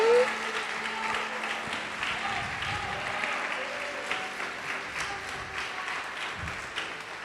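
A church congregation applauds and glorifies the Lord during a sermon, producing a steady, sustained wash of clapping from a crowd that holds at an even level throughout, with a faint tone and murmurs beneath.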